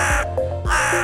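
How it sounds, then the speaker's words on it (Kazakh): A crow perched in a willow gives two harsh, loud caws in quick succession, close and alone. "Қонақтаған талға, қарқылдайды қарға."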